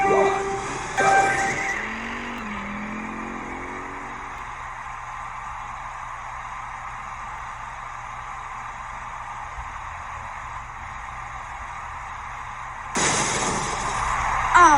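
Nitro Type typing-race game disqualification effect: a bright burst, then a falling whinny-like tone and a steady electronic drone under a possible announcer voice, closing with another loud burst.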